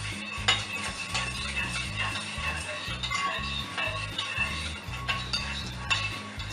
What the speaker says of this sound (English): So you have to mix it well until it's all the salt is all dissolved in the soap.